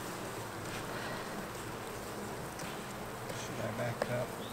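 Honey bees at a beehive hum in a steady, dense buzz close by, with a faint low rumble underneath and a brief voice-like murmur near the end.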